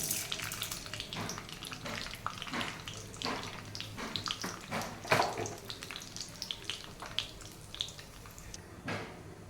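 Cumin, mustard seeds and urad dal sizzle and crackle in hot oil, with a steady, close frying hiss and scattered sharp pops throughout.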